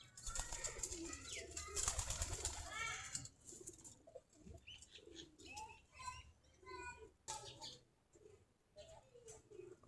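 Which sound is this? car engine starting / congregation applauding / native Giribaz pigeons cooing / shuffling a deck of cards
native Giribaz pigeons cooing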